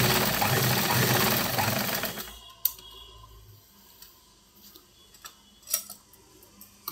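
Sewing machine stitching fabric for semi-Patiala pants, a dense steady whir for about two seconds that stops abruptly, followed by quiet with scattered small clicks and taps.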